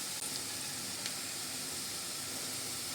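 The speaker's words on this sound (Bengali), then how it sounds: "পেঁয়াজ রসুন কাঁচা লঙ্কাটা ঠিক যেইভাবে লালচে করে ভেজে নিয়েছি" Onion, garlic and green chili frying in hot oil in a pan, a close, steady sizzle and hiss with a few faint crackles.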